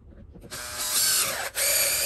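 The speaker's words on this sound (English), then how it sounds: "start there with a 5/16 inch drill bit and just drill right in the center of this hole." A power drill with a 5/16 inch bit whirs into the center of a hole in a flat sole adapter, starting after a brief pause, running steadily with a short dip before resuming at full speed, close and loud.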